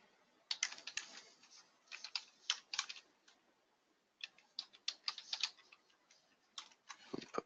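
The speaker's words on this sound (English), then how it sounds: "and then you just type in the student information." Someone types on a computer keyboard while entering student information into tax preparation software, producing quick irregular bursts of clicking keystrokes with a short pause in the middle, close and fairly quiet.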